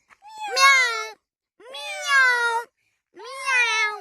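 A human voice imitates a cat, giving three clear, drawn-out meows separated by short pauses, each close and fairly loud.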